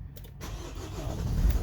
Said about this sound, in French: Je mets le véhicule en route